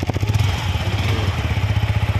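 A Yamaha R15 V4 Race Edition motorcycle runs close by, its single-cylinder engine idling with a rapid, even, pulsing thump that stays loud and steady.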